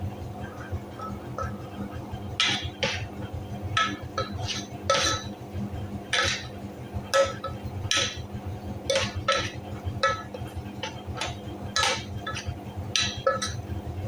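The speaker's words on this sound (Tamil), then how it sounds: "மல்லித்தூள் கொஞ்சம், சேர்த்து நல்லா கிண்டணும்." A metal spoon stirs coriander powder into a masala in a pan, giving repeated close scraping clinks at an uneven, steady rhythm over a low background hum, with no talking.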